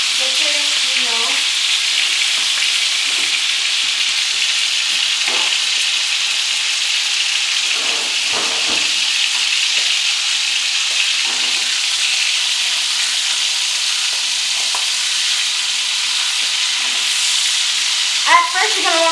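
Bacon or pancetta frying for carbonara in a hot pan, a steady loud sizzle and crackle throughout with occasional scrapes and clinks of stirring, no talking.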